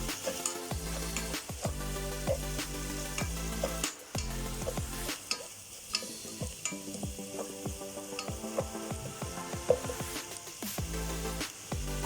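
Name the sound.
onions frying with salt in pan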